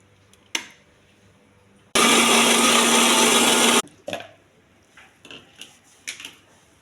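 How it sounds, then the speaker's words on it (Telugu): A kitchen mixer grinder blends fruit for fresh juice, a loud steady whirring burst of about two seconds with knocks and clatter from the jar before and after. "మిక్సీ చేస్తానండి ఇప్పుడు."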